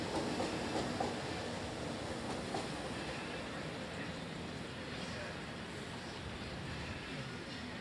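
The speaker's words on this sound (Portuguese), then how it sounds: "Lá vai o famigerado metrô." A São Paulo metro train rumbles past at a distance, a faint, continuous roar with soft rail clatter and wind-like noise throughout, with no clear speech.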